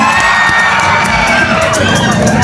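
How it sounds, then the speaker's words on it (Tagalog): A pageant crowd cheers and shouts continuously and loudly, with whoops and children's voices in a dense roar that never drops. "wala po bang palakpakan dyan? Wala rin po bang hiyawan dyan?"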